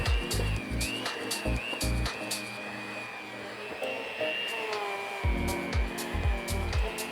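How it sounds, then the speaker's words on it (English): An electric hand mixer whirs steadily while beating butter with flour for kourabiedes, with rhythmic knocking and thumping as the beaters strike the bowl at the start and end. "it's gonna get hard to use the hand mixer"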